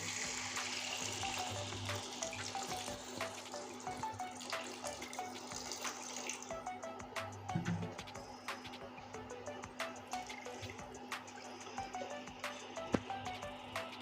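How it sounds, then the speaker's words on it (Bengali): Water poured into a pan of potato and bitter gourd curry for a katla fish head jhol, a steady broad running wash that carries on for several seconds and then thins out into lighter trickling. "এখন আমি পরিমাণ মতো জল দিয়ে দিচ্ছি"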